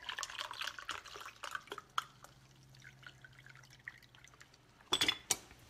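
Vegetable broth pours into a measuring cup, a soft close trickle with scattered drips and a couple of sharp clinks of glass near the end.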